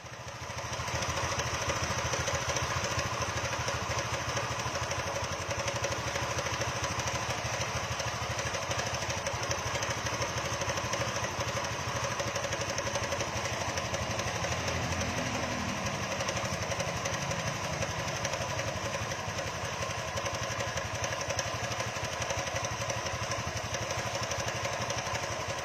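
A 2013 AB scooter engine that keeps stalling idles steadily with a constant rough chug and rattle, close by, running evenly throughout with no talking.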